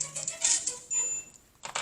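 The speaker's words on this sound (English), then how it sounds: "Sorry about my phone going off." Quick bright electronic phone notification chimes ring out in a few short bursts, fairly close and clear, with brief pauses between them.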